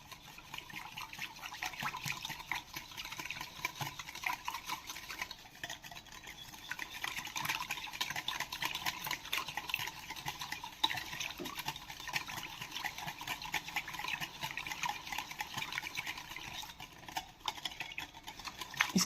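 Oil and sugar are whisked together in a bowl for a chocolate walnut tea cake, a steady scraping, sloshing stir that runs quietly and continuously up close with no voices.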